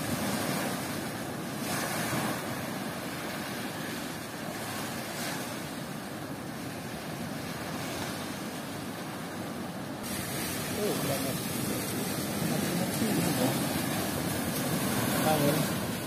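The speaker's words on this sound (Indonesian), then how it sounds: "Angin." Wind gusts steadily across a beach during outdoor cooking, a continuous roaring rush mixed with surf that swells louder partway through.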